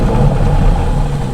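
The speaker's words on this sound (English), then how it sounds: "This has got a 3-litre V6. It's got the sports exhaust option," A steady, low rumble from a 3-litre V6 hybrid car engine with sports exhaust idles close by, a deep throaty drone with faint mid-range texture and no voices.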